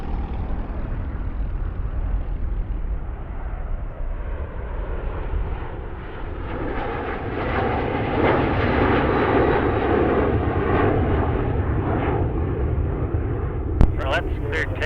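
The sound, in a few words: Wedgetail aircraft flying airshow display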